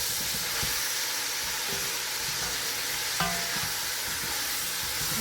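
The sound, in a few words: shrimp sizzling in pan with seasoning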